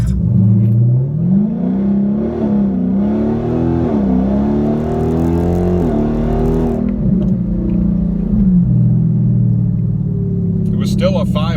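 A 2019 Dodge Hellcat accelerates hard on a street, its loud engine note rising and falling through several gear changes over about eleven seconds before easing off, heard close and alone.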